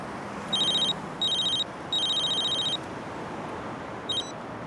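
A telephone bell rings in three bursts, the third longer than the first two, followed by a brief fourth chirp, over a steady background hiss.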